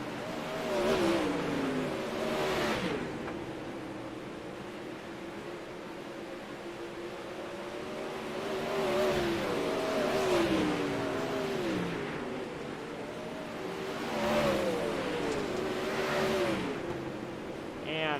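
Sprint cars in an All-Star Series heat race on the oval at Weedsport, engines swelling and fading in repeated waves as the pack circles past, heard from a distance under a commentator's voice.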